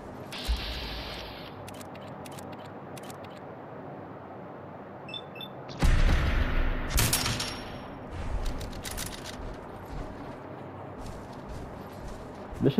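Bursts of rapid gunfire crackle in stretches, with a loud flurry midway and scattered shots afterward, from combat in the video game Fallout 4.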